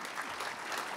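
Audience applause at a legislative insurance conference, a steady dense wash of clapping throughout, fairly loud and close, with no speech over it.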